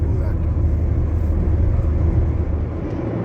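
Low rumbling road noise inside a car cruising on a three-lane highway while overtaking slower trucks, a steady loud drone with wind and engine hum throughout.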